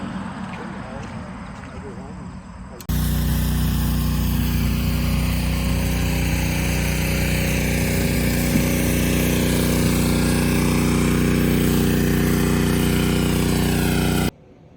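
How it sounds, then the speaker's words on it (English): A pressure washer blasts grease off the original engine pulled from a one-owner Camaro after 57 years, kicking in suddenly with a loud, steady hissing roar over a droning motor, then cutting off abruptly near the end. "do one more round of power washing"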